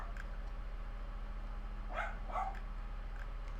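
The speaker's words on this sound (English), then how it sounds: "My dog is barking" A household pet dog gives two quick barks in the near background against a steady low room hum, otherwise quiet.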